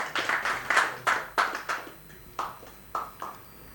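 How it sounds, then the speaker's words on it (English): Audience at a CREDAI-MCHI Youth Wing session clapping for a presenter, scattered hand claps from a small group, loud at first and then thinning out into a few separate claps. "I would like to give everyone a round of applause to Mr."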